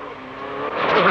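Onboard Peugeot 309 GTI rally car during the 1990 Cartel International Rally, its engine note climbing loud and close as it accelerates, tyres briefly scrabbling, over a short burst.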